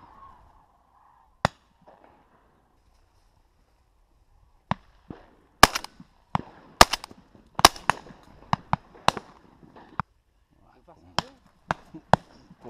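Shotgun shots on a December duck hunt, sharp cracks alone at first, then a dense irregular volley of blasts, some near and loud, others fainter, with quiet between.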